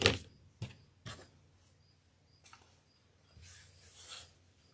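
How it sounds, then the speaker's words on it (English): Scissors cutting wired ribbon from the folded side toward the wired edge, a few quiet, sharp snipping and rasping strokes followed by soft rustling, close and faint with no talk. "I'm going to cut from my folded side to my wired point."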